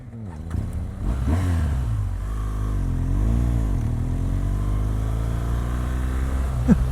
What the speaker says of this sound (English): I stalled on that one. I forgot to shift down.